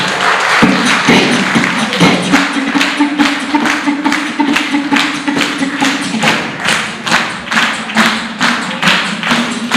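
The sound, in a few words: audience clapping for a poet at a festival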